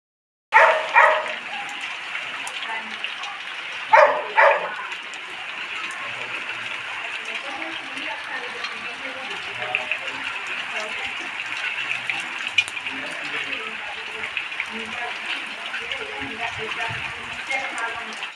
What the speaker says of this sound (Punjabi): ਲਓ ਜੀ ਅੱਜ ਪੈ ਗਿਆ ਮੀਂਹ